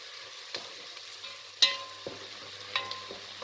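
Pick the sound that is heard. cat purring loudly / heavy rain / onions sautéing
onions sautéing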